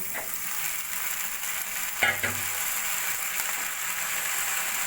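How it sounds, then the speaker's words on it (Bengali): Bottle gourd greens fry with spice paste in a pan, a steady close sizzle with a brief scrape and clatter of stirring partway through, no talking. "লাউ শাকগুলো মশলার সঙ্গে ভালো করে মিশিয়ে নেবো"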